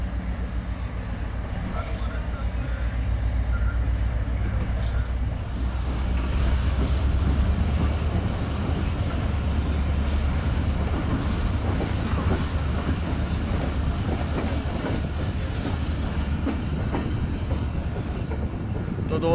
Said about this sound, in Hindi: शालीमार एक्सप्रेस लाडली रेलवे स्टेशन से रवाना हो रही है